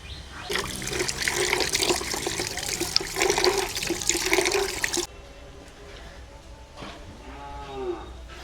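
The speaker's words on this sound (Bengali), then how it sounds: "মাছগুলো কাটা হয়ে গেছে, এবারে মাছগুলোকে ধুয়ে নেব।" Running water pours steadily as cut pieces of lote fish are washed under a tap, loud and continuous for about five seconds, then quieter splashing and dribbling as the flow eases.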